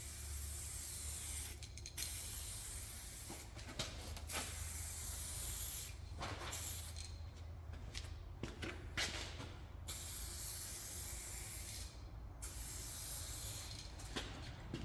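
A can of spray paint putting down a light coat, heard as bursts of close, steady hiss separated by short pauses, repeated several times and fairly quiet overall, with no voices.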